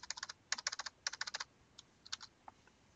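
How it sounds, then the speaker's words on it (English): Numbers are typed on a computer keyboard in quick bursts of crisp, close key clicks, with a dense flurry at first and then sparser, scattered taps. "So let me type that up."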